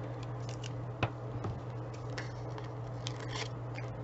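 Scissors snip through fabric around printed unicorn and star shapes, a close, soft series of irregular cuts with small clicks, faint and alone over a steady low hum.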